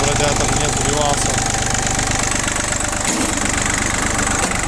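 An ISEKI TU185F mini tractor engine idles steadily while warming up, a loud, close, even chugging with a fast rhythmic knock that continues throughout, and someone speaks over it.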